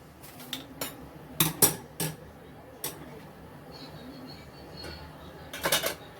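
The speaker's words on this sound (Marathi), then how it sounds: "आता आपण त्या भांड्यामध्ये काढून घेऊया" Green moong dhokla being scooped out of a steamer into an oiled vessel, with sharp metallic clinks and scrapes of a utensil in uneven bursts, close and clear against a quiet room.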